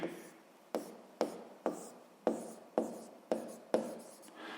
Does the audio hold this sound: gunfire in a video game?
no